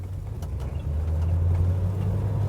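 A 1969 Pontiac GTO Judge with the Ram Air III engine drives along, its low, steady engine drone heard from inside the car and rising slightly in strength partway through.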